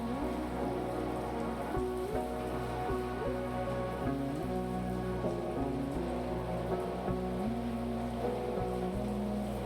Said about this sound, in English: The soft patter of raindrops against the bedroom window is the first thing Lily hears